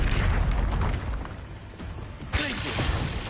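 Spell blasts from Incendio and Confringo in the game Hogwarts Legacy, a run of booming bursts over a continuous rumble, with a sharp, loud blast near the end and crackling after it.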